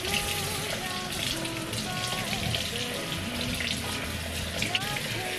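Freshly harvested lettuce being rinsed again in water, a steady close splashing and trickling wash with soft rustling, while a voice talks over it.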